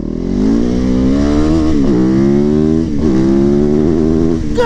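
A supermoto motorcycle engine revs up hard, close and loud, with its rising harmonic pitch dipping briefly between throttle blips before climbing again.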